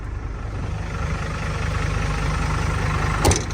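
A car engine runs steadily and loudly up close, its rumble building slightly as the accelerator is pressed, ending with a brief knock.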